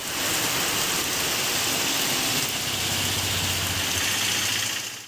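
Heavy rain from a depression in Visakhapatnam falls as a constant dense hiss, with a low engine-like rumble running underneath throughout and no voices.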